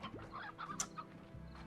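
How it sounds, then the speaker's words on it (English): Chicken in the video game Slime Rancher giving a few quick, soft clucks at close range, faint overall with no talk. "Why is there a chicken in there?"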